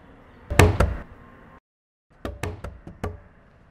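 Knocking on a door in two bursts, a few heavy raps then a pause, followed by another quicker series of sharp knocks, loud and close with no voices.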